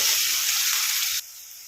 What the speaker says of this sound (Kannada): ಈರುಳ್ಳಿ ಎಲ್ಲ ಹಸಿ ವಾಸನೆ ಹೋಗೋವರೆಗೂ ನಾವು ಫ್ರೈ ಮಾಡ್ಕೊಳ್ಬೇಕು